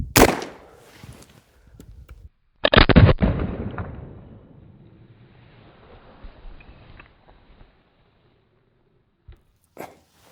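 A single loud gunshot cracks close by when shooting at a playing card target, followed by a long rolling echo that fades, with a few faint thuds and clicks afterward.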